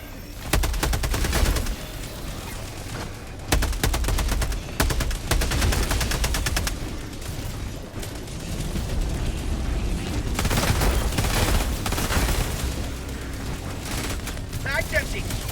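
Gunfire fills a battle in the video game Helldivers 2: rapid automatic bursts in several volleys with booming impacts and explosions underneath, loud and continuous, and a voice speaks over the action.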